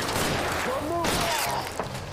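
Gunfire rings out in a shooter video game as a shot lands a headshot, set within a steady, dense wash of loud game noise with a voice speaking over it.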